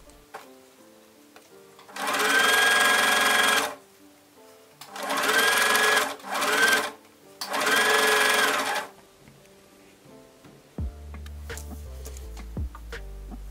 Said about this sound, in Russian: Прокладываем строчку.